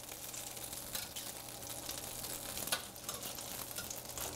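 Chicken wings sizzling steadily in a frying pan as they are turned, with a few soft scraping and clattering touches over the continuous frying hiss, close and fairly quiet.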